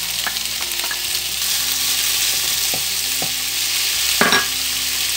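Potatoes and bell peppers fry steadily in a pan, a continuous bright sizzle with a few scraping knocks of a utensil against the pan scattered throughout.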